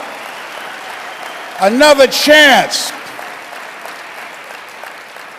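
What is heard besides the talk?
audience applause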